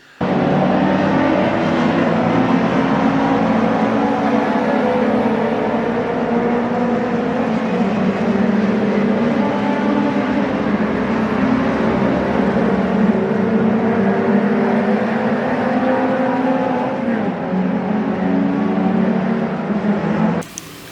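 Classic 1970s and 1980s race cars at the Nürburgring Classic, with engines droning steadily and loudly throughout, several cars blending into a continuous roar without any talking.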